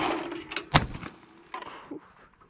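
A single sharp shotgun blast fires at a clay target outdoors, a sudden loud crack followed by a short fading echo amid quiet background murmur.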